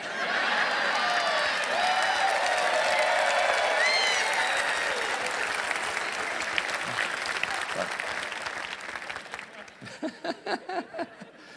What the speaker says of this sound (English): That's the greatest applause I've gotten all night.